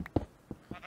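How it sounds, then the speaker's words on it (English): A sheep in Minecraft bleating in a few short, faint, quick cries spaced across a second, with no talking. "It was a sheep."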